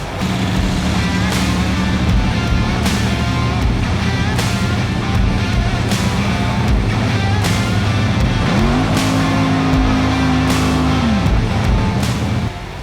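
A nitro drag racing car roars at a loud, constant, saturated full-throttle blast as it launches at the Rocky Mountain Nationals 2024, with a rising engine tone near the end and no talking.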